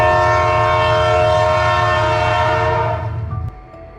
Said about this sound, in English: The powerful locomotive was rushing along the track,